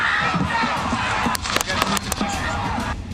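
Several sharp gunshot cracks ring out in quick succession amid shouting and a noisy, agitated crowd at an attack on Donald Trump.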